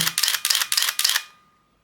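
Nikon F4 camera shutter firing repeatedly in quiet shutter mode, four or five evenly spaced mechanical clicks with whirring in a steady burst, close and fairly loud, then fading out with no voices.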